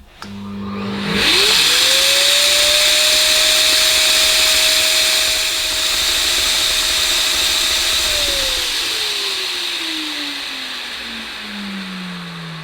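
A 2000-watt Maytag Satellite vacuum cleaner starts up, rising to a loud, steady whining motor drone with rushing airflow, then winds down in a long falling pitch after being switched off.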